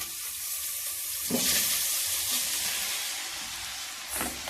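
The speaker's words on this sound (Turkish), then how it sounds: "Makarnamızı dökelim." Cooked pasta and its hot water pour out of a pot into a sink in a home kitchen, making a steady rushing splash with brief louder surges of water and no talk.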